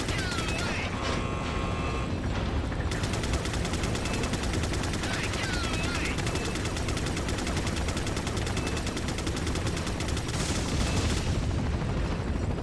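Rapid gunfire from the video game Resident Evil 4 runs dense and continuous throughout, with bursts of shots layered over steady game noise and no clear gaps.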